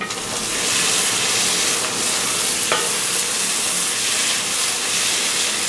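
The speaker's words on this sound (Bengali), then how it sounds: "মিডিয়াম হাই হিটে বটটাকে 10 মিনিট মতো কষিয়ে নেব" Beef tripe braises in a pan over medium-high heat, giving a loud, constant sizzle and hiss with a single sharp stirring scrape midway.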